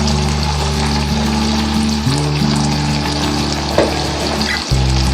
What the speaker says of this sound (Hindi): मैं इसमें और डालूंगी पानी थोड़ा सा।